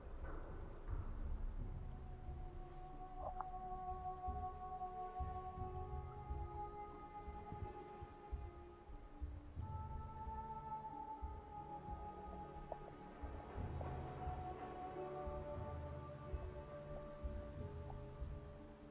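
Rain falls over Boston in Fallout 4, a steady soft patter and hiss with faint low rumbling, quiet and continuous with a few faint tonal ambient notes drifting through.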